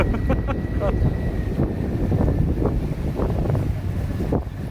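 Wind buffeting a small boat on the water during a leisurely ride, a steady broadband rush and rumble running throughout, with engine and water noise mixed in beneath it.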